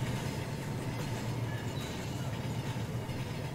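A train rolls along rails in the VR model railway game Rolling Line, a steady, dense rumble with faint metallic clatter, continuous throughout and without speech.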